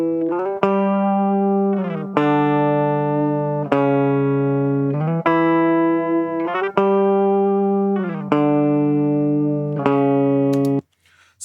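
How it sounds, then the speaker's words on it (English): A clean, undistorted electric guitar DI feed plays sustained chords, struck one after another at a steady pace with each ringing out before the next. "So here's our clean guitar part."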